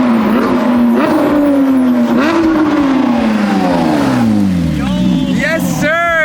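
A Porsche 992 GT3 fitted with an F1-style exhaust revs loudly nearby, its engine note sweeping up and falling away in rising and falling pulls, with people talking over it.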